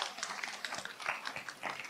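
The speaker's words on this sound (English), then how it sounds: "final round of applause" Audience applause closing a forest fuels policy forum at Lake Tahoe, a scattered round of hand clapping from a modest crowd, moderately faint and sustained for a couple of seconds.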